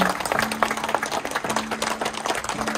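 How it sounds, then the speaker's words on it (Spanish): Mourners applaud as doves are released into the sky at a funeral, a dense burst of clapping from a gathered crowd with a faint sustained tone running beneath. "lanzamos las palomas hacia el cielo y un fuertísimo aplauso, por favor."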